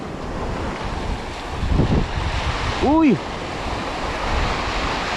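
Ocean surf rushes and hisses steadily under gusty wind noise at a shoreline while tenkara lure fishing, with a brief exclamation from a voice partway through.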